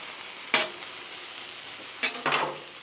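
Bacon bits stirred into caramelized onions on a Blackstone griddle, a soft steady sizzle with two sharp scraping stirs of the spatula, close and without talk.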